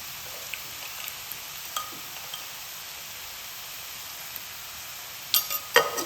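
Sliced onions with salt fry in a hot pan for a chicken roll filling, giving a steady, even sizzle throughout, with a few brief louder clatters near the end as they are stirred.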